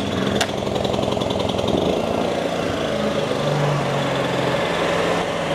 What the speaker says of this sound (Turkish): Evet, jeneratörümüz çalıştı.